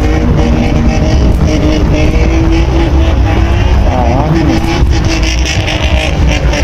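An old Nissan Skyline GT-R engine runs loud and close, a deep rumbling drone with a rising rev in the middle, heard on a street.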